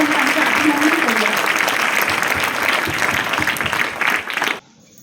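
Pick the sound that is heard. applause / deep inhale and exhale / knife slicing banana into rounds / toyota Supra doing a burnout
applause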